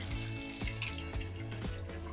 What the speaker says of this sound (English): We have a running bath. Old Victorian taps. There we go, lovely hot water from our boiler.